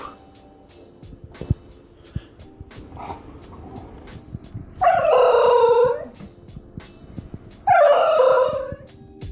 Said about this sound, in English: Instead of barking, the Basenji makes characteristic yodel-like sounds